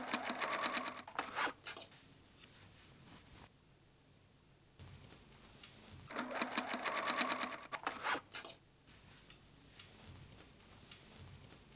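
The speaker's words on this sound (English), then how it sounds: "Sew a 39 centimeter elastic band to the pocket fabric, stretching it to create gathers." A sewing machine stitches elastic band onto pocket fabric cut from an old umbrella, running in two loud bursts of rapid stitching separated by quieter pauses.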